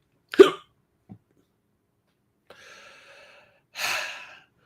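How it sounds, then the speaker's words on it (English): Hiccups from someone talking about films at home: one sharp, loud hiccup near the start, then a faint short one, later a breathy sound and a final loud gasping hiccup, all alone with no speech. "I got the hiccups now."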